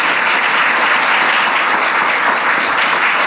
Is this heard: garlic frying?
no